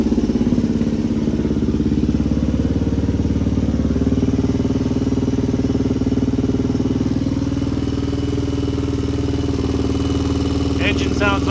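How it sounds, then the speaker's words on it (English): A freshly built HRC XR628R motorcycle engine idles steadily and loudly nearby, with a constant rumbling thump throughout and no noticeable valve chatter, while someone talks faintly near the end. "engine sounds nice and quiet. You don't hear any extra chatter for those valves."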